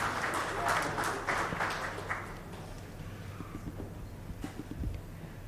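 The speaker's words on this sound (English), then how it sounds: "if we can begin with a round of applause for them" Audience applause for a healthcare panel discussion's jury members, a broad wash of clapping from a room that is loudest early on, then thins and fades over several seconds.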